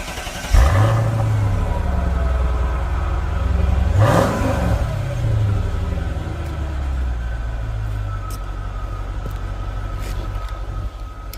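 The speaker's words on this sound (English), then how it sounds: "I want to start the car for you guys so you can hear it." A 2005 Mercedes SL 500 engine cranks and catches, settles into a deep idle, then gives a sharp rev around the middle before dropping back to a steady, close rumble.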